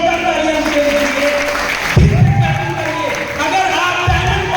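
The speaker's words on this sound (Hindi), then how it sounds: "जोरदार तालियां उनके लिए।" An audience claps at a business seminar, with steady applause filling the room and a brief swell midway, loud and close, with a presenter's voice carrying over the clapping.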